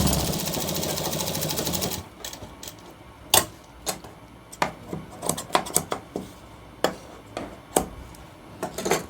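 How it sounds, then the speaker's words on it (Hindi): A sewing machine stitches a shirt collar in a steady, close mechanical run for about two seconds, then stops, leaving a series of sharp ticks and light clicks. "इस तरह भी हमें ऐसे ही सिलाई लगानी है, इसको बिल्कुल बराबर करके यहाँ से।"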